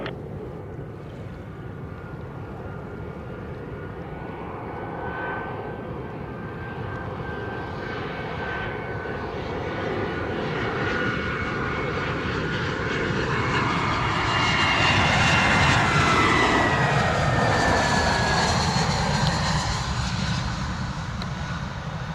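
A U.S. Air Force Globemaster cargo jet landing at an airport in Jamaica: a loud, continuous jet engine roar that swells to its peak around the middle and then holds, with a whining tone and no voices.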